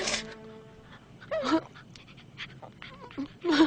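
A dog pants in short, quick breathy bursts near the microphone, with a few soft whimpering sounds in between, and quiet background noise otherwise.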